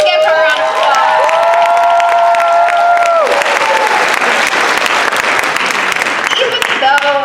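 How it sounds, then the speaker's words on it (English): A loud, sustained round of applause and cheering from an audience at a Delaware FFA state convention retiring address, with whistles and vocal shouts rising over dense clapping throughout. "So let's give her a round of applause."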